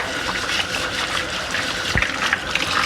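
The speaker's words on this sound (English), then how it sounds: "all I'm gonna do is use warm water to rinse them off" Warm tap water runs steadily into a sink, rinsing potatoes under a close, loud and continuous gushing stream with no talking.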